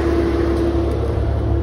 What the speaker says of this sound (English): an engine bay cooling fan here on the passenger side. You can hear it running in there